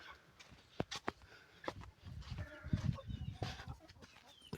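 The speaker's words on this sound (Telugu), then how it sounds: "ఈ గాబుల్లో 2 కోడిపుంజు ఫ్రెండ్స్" Two roosters shut in a box give faint, scattered clucks and low muffled calls, with scraping and knocks in between, quiet and close, with no speech.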